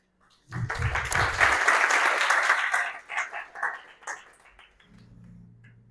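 Church congregation clapping during a sermon, a loud burst that swells then trails off into scattered claps, followed by a low voice at the end.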